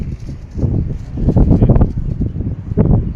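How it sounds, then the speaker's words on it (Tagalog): Strong gusty wind buffeting the microphone high up in stormy weather, loud rumbling bursts rising and falling across the few seconds, with no clear voice over it. "Malakas ang hangin oh."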